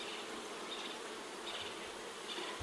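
Honey bees buzz at an open backyard hive during a honey harvest, a continuous faint drone with soft swells as individual bees pass close, heard alone without talk.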